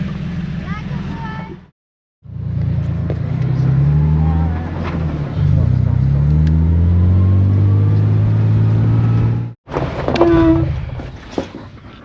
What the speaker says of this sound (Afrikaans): Ek het nou van die motor hoor.